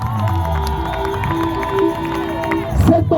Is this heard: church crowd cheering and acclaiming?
yes